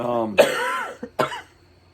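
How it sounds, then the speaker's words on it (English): A person has a coughing fit, with two or three harsh, throaty coughs in quick succession following a brief bit of talk, close and fairly loud before trailing off into quiet. "Have a coughing fit."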